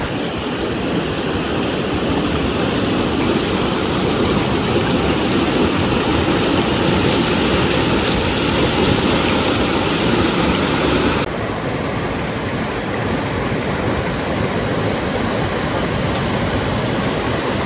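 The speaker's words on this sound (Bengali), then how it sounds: "সামনে এদিকে সব জল যাচ্ছে নদীর মধ্যে ছোট ছোট ওয়াটারফল" Small waterfalls and river water rush over rocks at a rocky riverside picnic spot, a steady, dense broadband roar that holds constant throughout, with a slight drop in level about two-thirds of the way in.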